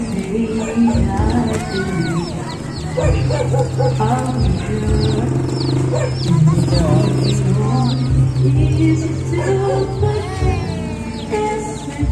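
Small chicks cheep and peep at close range amid a busy outdoor fiesta gathering, their high chirps continuing through the whole stretch beneath steady chatter and voices of people talking nearby.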